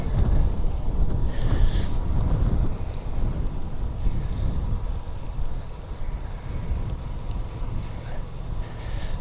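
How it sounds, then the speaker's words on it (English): Strong wind buffets the microphone during an urban sunset ride on a fixed-gear bike, a loud, continuous low roar with gusts swelling and easing, and no clear voices. "So windy, I can't hear myself think."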